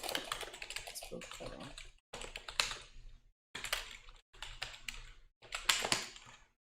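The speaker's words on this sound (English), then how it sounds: "Who's typing is louder, guys? Do you hear mine?" Rapid clicking keystrokes on a keyboard come in bursts separated by short silent pauses, close and fairly quiet.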